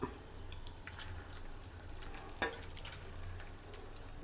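Egg lollipop balls deep frying in oil, making a quiet, continuous bubbling sizzle, broken once by a brief sharp clatter midway.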